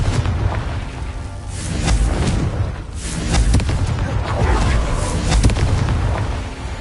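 Confringo blasting spell in Hogwarts Legacy, a run of booming fiery explosions and bursts that rumble loud and near throughout, overlapping one another with crackling debris between the blasts.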